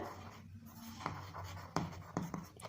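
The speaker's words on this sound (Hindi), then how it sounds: "सबसे पहले तो देखिए हम लिखते हैं सॉल्यूशन" Pen strokes on paper while writing out a compound interest maths solution by hand, a faint scratching with a few sharper taps, quiet and close.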